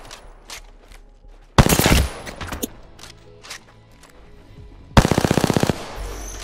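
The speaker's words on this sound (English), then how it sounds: "shots fired and they're hitting me" Video game gunfire, a battle-royale style match, with two loud bursts of rapid automatic fire and scattered single shots and thumps in between, close and sharp, with no talk.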